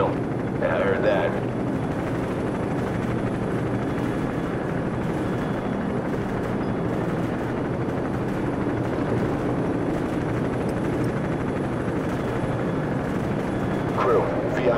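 Steady low rotor drone of a helicopter in the video game Call of Duty: Modern Warfare fills the whole stretch, constant and fairly loud, with faint voices and radio chatter underneath.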